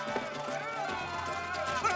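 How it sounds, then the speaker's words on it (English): A cartoon crowd of club-carrying cave people runs to storm a castle, a busy rush of footfalls and commotion mixed under music and voices throughout. "Cave people carrying clubs. They're storming the castle."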